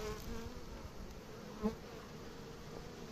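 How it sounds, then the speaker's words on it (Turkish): Honeybees buzz steadily around a woven hazelnut basket hive outdoors, a soft continuous drone with one brief louder pass as a bee flies close. "Arılarımız güzel çalışıyor."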